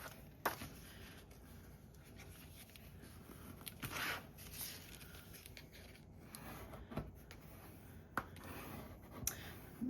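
Pencil or pen scoring a line across a sheet of 6x12 paper to ease folding, quiet scratchy strokes with a few soft taps and rustles, close and alone.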